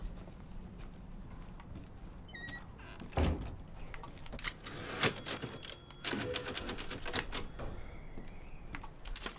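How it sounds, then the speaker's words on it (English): Clacks and thunks from a typewriter in Resident Evil Village ring out as scattered sharp mechanical strikes and knocks over a quiet game background, without speech. "Typewriter."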